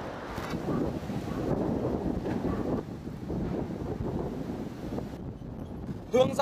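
Strong gusting wind during Typhoon Yagi in Nam Dinh, Vietnam: a loud, continuous buffeting roar with a rougher burst near the end, and no voices.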